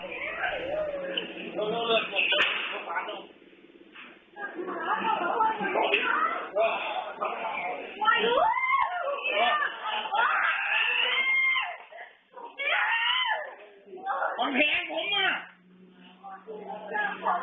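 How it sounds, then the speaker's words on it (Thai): A woman screams in replayed Thai news footage of a police officer's shooting of a rider. The shrill, strained cries go on repeatedly with brief breaks, mixed with other voices. "เปิดเสียงกรี๊ดขึ้นมาอีกรอบหนึ่งฮะ"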